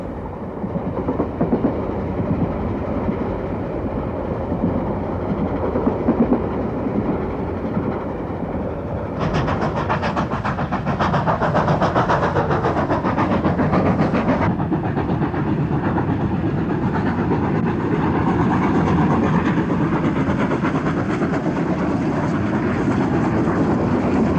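A steam-hauled train led by locomotive 3801 rumbles past on standard gauge rails with a continuous heavy roar, brightening midway as the cars clatter by close to the listener.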